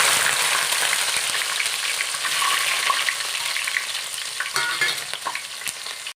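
Mustard seeds and garlic fry in hot oil for a pickle, a loud, close, continuous sizzle with small pops and occasional stirring scrapes, no voices.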